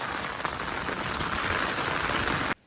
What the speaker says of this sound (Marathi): एवढं पाऊस पडतो.